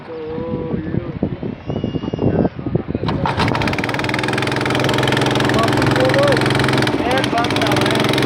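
An engine idles steadily and loudly after someone has re-oiled it all over, settling into a constant running drone; people talk over it at the start.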